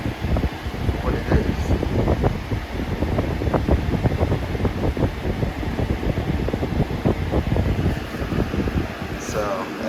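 A Lasko Pro Power box fan, model B20548, runs with a steady, close whooshing rush of moving air and a slight rattle from a mild shake.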